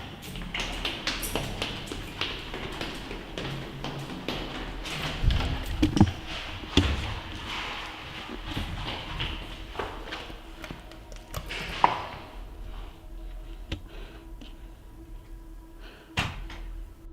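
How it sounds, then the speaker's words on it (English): Someone runs down a staircase and out the front door of a building: a stream of quick thumping footsteps and knocks, then a door sound. The thuds thin out near the end. "They ran downstairs and out the front door."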